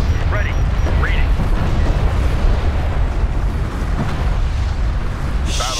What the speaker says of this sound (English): Enemy honor guard cruiser destroyed.